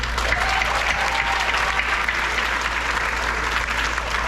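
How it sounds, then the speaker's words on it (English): Steady applause from a graduation ceremony crowd, continuous clapping at even loudness throughout, with a low hum underneath. "A round of applause."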